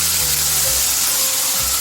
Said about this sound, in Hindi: तो अब हम इसके अंदर जो हमने मैरिनेट करके रखी थी वो चिकन डाल देंगे।